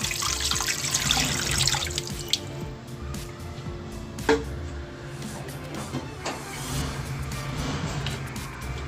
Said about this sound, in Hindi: और इसके अंदर पानी डालेंगे।